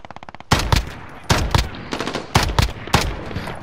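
Bursts of automatic gunfire in the Call of Duty Warzone video game, several loud close volleys of rapid shots separated by short gaps, heard alone without speech.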